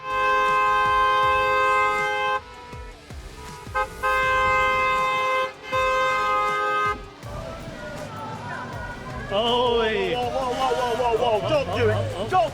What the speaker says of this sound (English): the only option they have is to honk non-stop.